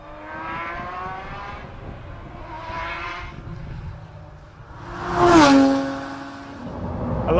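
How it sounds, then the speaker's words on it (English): A Ferrari F50's 513-horsepower V12 hums at moderate volume, then swells into a brief, rising rev before settling back into a steady drone. "the F50's 513 brake horsepower V12 sounds like a dilapidated washing machine on its final spin cycle"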